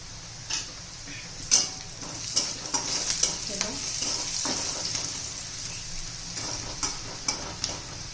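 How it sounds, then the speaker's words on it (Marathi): Onions sauté in a pan for misal pav, a steady close sizzle broken by scraping stirs and occasional clicks of a spoon against the pan. "ट्रान्सपरंट होईल इथपर्यंतच परतून घ्यायचं आहे आपल्याला"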